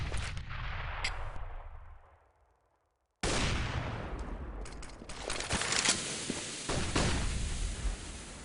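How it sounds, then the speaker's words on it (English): Grenades exploding during a Counter-Strike match: repeated loud, broadband blasts and rumbling bangs, one burst fading into a brief silence and then a dense stretch of several more explosions. "As the grenades coming out from both sides, doing a little bits of damage"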